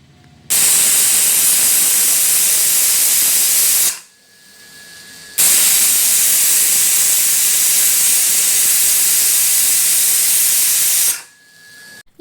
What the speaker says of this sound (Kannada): ಈ ಟೈಮಲ್ಲಿ ನಾವು ಮೇಲ್ಗಡೆ ಕ್ಯಾಪ್ನ ಮುಚ್ಚಿ ನಾನಿಲ್ಲಿ ಒಂದು 2ರಿಂದ 3 ವಿಷಲ್ನ ಕೂಗಿಸ್ಕೋತೀನಿ